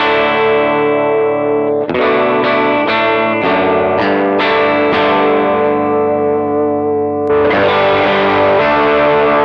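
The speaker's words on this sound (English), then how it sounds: "the great Gretsch sound that fits so well in the style of music" A Gretsch electric guitar played through effects rings out in loud, sustained distorted chords with chorus shimmer, a run of rhythmic strums in the middle and a fresh chord near the end, with no voices.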